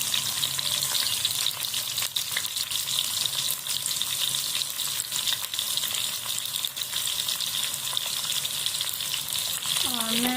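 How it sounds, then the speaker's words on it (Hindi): Onions fry steadily in hot sizzling ghee in a home kitchen, a dense, even crackle and hiss that runs throughout with occasional stirring clinks. "घी हमारा तड़क रहा है जोरों शोर से। अब ऐड करें प्याज।"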